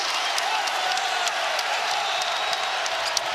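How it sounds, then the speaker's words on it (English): A basketball arena crowd at a BYU vs Iowa State game roars steadily after a made three-pointer, a dense, loud wash of cheering and oohs with scattered whoops throughout. "You hear the oohs and ahs from the crowd."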